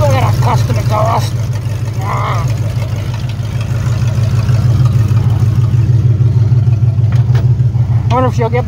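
Revived formerly seized LS-type engine idling and pulling through a custom exhaust, a loud steady low rumble throughout with voices talking over it.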